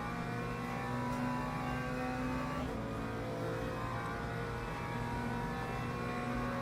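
A McLaren race car's engine in the Le Mans Ultimate racing game, a loud, sustained high-pitched drone that holds steady with a brief shift in pitch partway through, with no talking.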